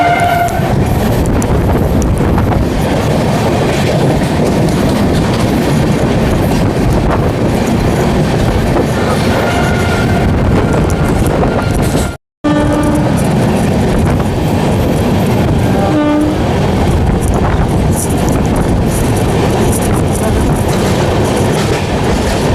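The Jan Shatabdi Express between Raigarh and Gondia rolls loudly along the rails with a continuous rumble and rhythmic clickety-clack, recorded from on board, with one brief dropout midway.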